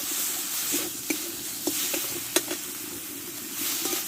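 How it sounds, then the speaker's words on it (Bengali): Ground coriander, chilli, cumin and turmeric sauté in a hot pan, a close, steady sizzle broken by several sharp scrapes and knocks of a spoon stirring the spice mix. "ধনে পাতা পরিমাণ মতো হলুদ দিয়ে দেবো দিয়ে একসঙ্গে ভালো করে মশলাটা কষে নেব"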